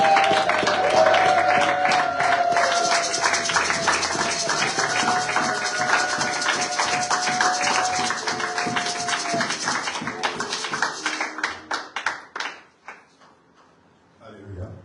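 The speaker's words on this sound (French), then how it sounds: "Est-ce qu'on peut faire un tonnerre d'applaudissements pour le Seigneur?" A church congregation at a thanksgiving service claps in sustained, dense applause for about ten seconds, then the clapping thins into scattered claps and fades out.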